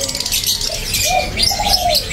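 Small finches chirp and call in short, bright bursts over a busy, noisy background, several calls overlapping near the listener.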